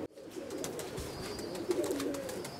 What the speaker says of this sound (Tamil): இது சப்ஜா புறான்னுவாங்க